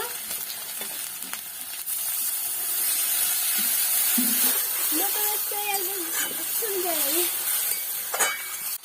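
Water hits frying spice masala for a chicken curry, setting off a loud, steady sizzle and hiss with stirring scrapes, while a voice speaks briefly over it.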